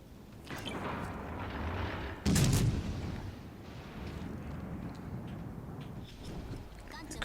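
A warship's guns fire in World of Warships Legends with one heavy boom partway through. Steady engine and water rumble runs underneath, and someone talks throughout.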